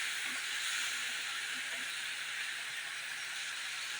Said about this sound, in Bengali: এরপর আমি এর ভিতরে দিয়ে দেবো অল্প একটু জল, জলটা দিয়ে আরেকটু কষিয়ে নেব।